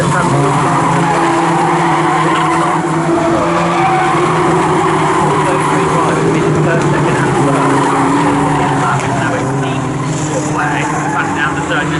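Locost race cars scream past at full throttle at Snetterton circuit, engines and tire squeal loud and continuous while a commentator talks over the racing.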